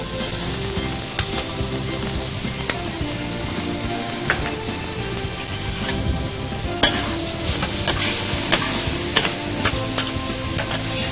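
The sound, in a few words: sautéing onions with added chopped tomatoes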